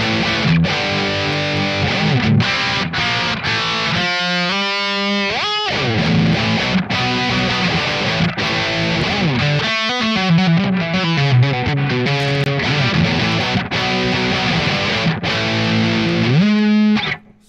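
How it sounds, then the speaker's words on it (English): Electric guitar played through a Spark 2 amplifier on its Switch Axe model with a distorted rock tone, loud and close: chugging chords and quick picked riffs with bends, ending in a sudden cutoff. "Switch axe gets you some pretty good rock tones right there."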